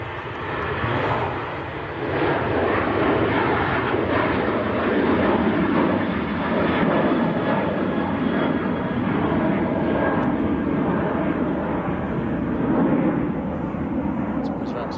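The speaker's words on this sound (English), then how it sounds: "Ryanair 738 just getting airborne" A Ryanair Boeing 737-800 lifts off from Manchester Airport. Its heavy jet roar rises within the first seconds and stays loud and continuous at a distance, with voices now and then in the background.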